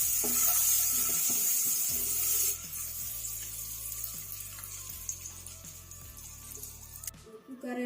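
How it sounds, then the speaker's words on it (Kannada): Eggs seasoned with salt and chili powder and slit with a knife fry in hot oil, giving a steady, close sizzling hiss over a low hum, with faint scraping now and then. "ಉಪ್ಪು ಖಾರ ಎಲ್ಲ ಚೆನ್ನಾಗಿ ಆಯಿಲಲ್ಲಿ ಫ್ರೈ ಆಗಿದೆ"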